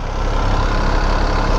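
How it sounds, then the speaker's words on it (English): MV Agusta F3 RR sport motorcycle engine idling steadily with a low, rough grinding rumble, close and constant throughout with no talk. "It has a little bit of a like kind of grinding noise."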